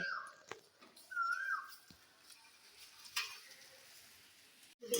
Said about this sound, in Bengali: আমার শাক ভাজা চলছে